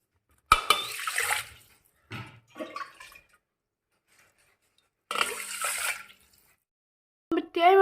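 Water pours onto soaked rice in three separate splashy bursts with quiet pauses between, close by, then a short gurgle at the end.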